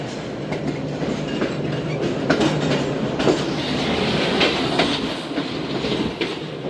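The Shalimar Express running on the line: a continuous rumble of rolling railcars with clickety-clack wheel beats and occasional sharper knocks, fairly close and steady, with no voices.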